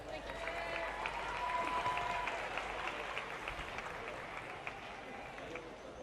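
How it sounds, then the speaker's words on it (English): An audience applauds at a goat livestock show, steady moderately distant clapping filling a large arena and lasting several seconds. "Let's give them all a big round of applause."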